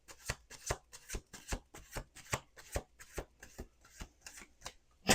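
Tarot cards being shuffled close up, a brisk run of about a dozen sharp riffling bursts in steady rhythm, no voices.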